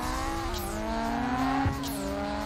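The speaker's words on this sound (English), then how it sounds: "Sound of our engine changed completely." Racing car engine in the PSP street racing game Street Supremacy, a steady harmonic drone that holds a sustained pitch and briefly shifts near the middle, loud and alone without voices.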